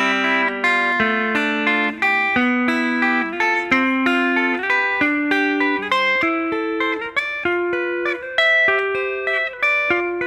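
Electric guitar picking triad shapes in a steady hybrid picking pattern, using fingers on the middle and top strings alongside the pick, with clean sustained notes rising and falling in a continuous rhythmic arpeggio, alone and close.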